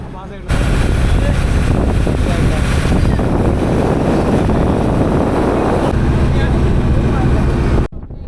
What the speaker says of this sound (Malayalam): അപ്പോൾ നമ്മുടെ ബോട്ട് ഇങ്ങനെ അടുത്തുകൊണ്ടിരിക്കുകയാണ് ജെട്ടിയിലേക്ക്